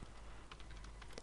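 Computer keyboard typing, a quick run of close, crisp key clicks over a steady background hum, no voices.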